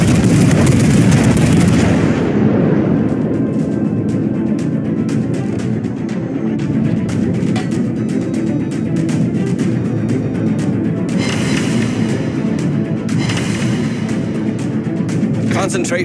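Naval battle in World of Warships aboard the cruiser Annapolis, with dense continuous rapid Bofors gunfire and booming shots forming a loud, unbroken roar.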